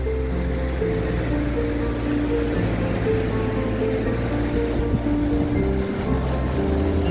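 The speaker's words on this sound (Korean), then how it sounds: "파도 몰려온 것 보세요." Ocean waves roll in and break along the shore near Songjeong beach in Gijang on a windy day. The surf makes a continuous loud roar with low rumble and gusts of wind.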